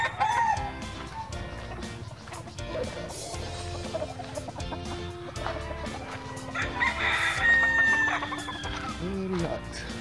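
Chickens cluck steadily close by on a farm while a rooster crows loudly partway through, with a faint voice and outdoor background noise.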